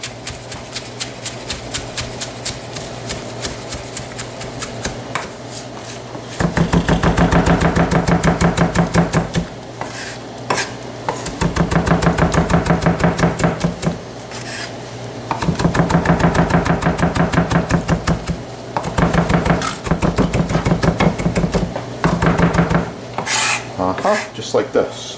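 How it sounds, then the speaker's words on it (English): A knife roughly chops fresh basil on a cutting board in bursts of rapid, close, rasping strokes, separated by short pauses. "At this point I like to chop my basil"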